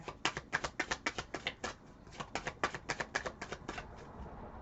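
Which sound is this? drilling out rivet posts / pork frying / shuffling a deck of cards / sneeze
shuffling a deck of cards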